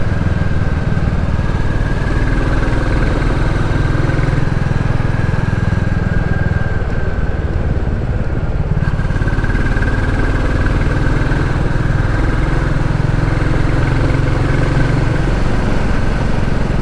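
A Royal Enfield Classic 350 motorcycle is ridden along narrow country roads. Its engine drones steadily and loudly from close by, with a continuous rumble and thump mixed with wind noise.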